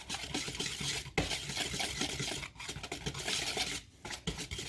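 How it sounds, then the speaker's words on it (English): A whisk scrapes and stirs dry biscuit dough ingredients in a bowl, a steady close rasping rhythm with brief pauses and no talk. "take a whisk, and you are going to just break this up like so. You just need to mix it up, mix it all together"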